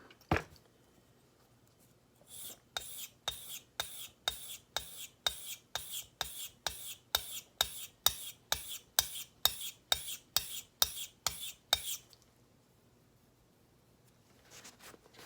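An EC Emerich shoulder plane blade is pushed hard across a sharpening stone in about twenty evenly paced, gritty rasping strokes, close and clear, with quiet pauses before and after.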